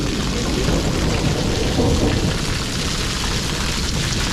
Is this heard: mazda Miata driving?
no